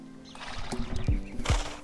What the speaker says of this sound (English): All of the old horse sound effects for when you move, they all play right here.